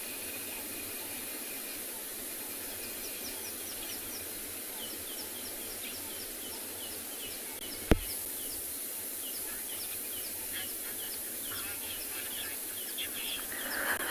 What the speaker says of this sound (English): Listen to these stunning birds around us.